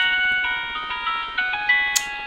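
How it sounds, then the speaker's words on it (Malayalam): A phone rings with a bright electronic melodic ringtone, steady repeating tones playing loud and close with no voices over it. "ഫോൺ അടിക്കും."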